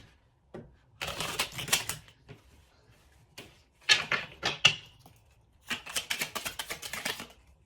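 Oracle cards being shuffled and drawn from a deck give three clusters of quick, crisp riffling flicks separated by brief pauses, close and fairly quiet, with no talking.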